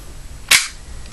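A WE M1911 airsoft pistol's slide release lets the slide snap forward in one sharp, loud metallic clack, alone in a quiet room with a brief ringing tail.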